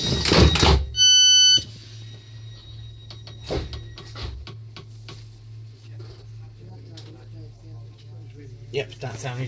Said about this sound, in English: that sound you just heard was the interlock from the driver's cab